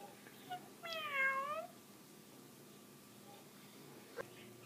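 A cat gives a single drawn-out meow near the start, fairly close but quiet against a soft room background, followed by a faint click later.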